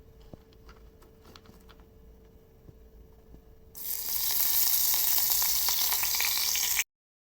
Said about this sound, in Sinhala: තෙල් ටික රත් වීගෙන එනකොට සුදු ලුණු ඊට කපලා සුදු ලුණු ටික දාන්න.